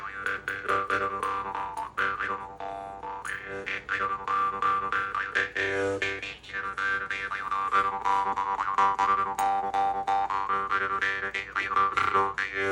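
A Boxcar jaw harp tuned low, around D2 or G2, twanging continuously with rhythmic buzzing pulses and a slight fuzz on the outward strokes, close and fairly loud.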